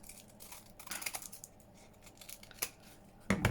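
Scissors snipping through a printed postcard during a journaling craft session, giving a run of soft, close, irregular crisp cuts with a sharper snip near the end.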